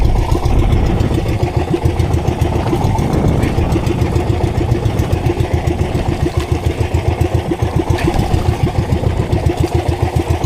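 A fishing boat's engine idles close by in a steady, rapid low throb that holds evenly throughout, out at sea while fishing for bluefin tuna.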